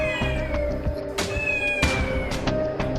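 A pet cat meows loudly and repeatedly up close, drawn-out caterwauling cries overlapping with other meows in a busy indoor setting.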